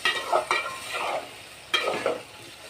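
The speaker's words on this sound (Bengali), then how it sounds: "আমি পটল আর আলু কষিয়ে নিলাম" Pointed gourd and potatoes being stirred and fried in a pan, with a soft sizzle and a few scraping strokes of a spoon against the pan, close and fairly quiet.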